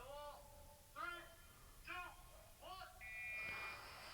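A buzzer beeps in short repeated bursts as a game button is pushed, four quick tones followed by a longer held one, faint and underneath people chatting on a podcast.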